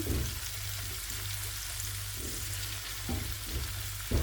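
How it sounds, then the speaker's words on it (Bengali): Spice paste for a dried fish mash sautés in a pan, a soft continuous sizzle with stirring strokes scraping at intervals, fairly quiet, beneath a steady low hum, no talking. "আমি এখানে শুটকির জন্য মশলাটা কষায় নিচ্ছি।"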